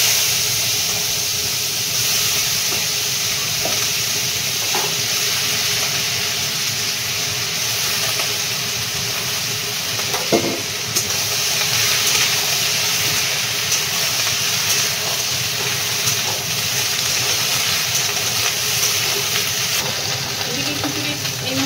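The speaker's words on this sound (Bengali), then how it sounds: "এবার বাঁধাকপিটা ভাজবো।" Shredded cabbage with carrots and beans fries in a pan for khichuri, giving a continuous close sizzle and hiss with occasional light clinks of stirring.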